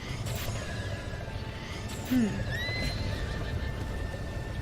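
A horse whinnies once in The Legend of Zelda: Breath of the Wild, a short rising-and-falling neigh midway, over steady game ambience with faint clip-clop and background whistling tones.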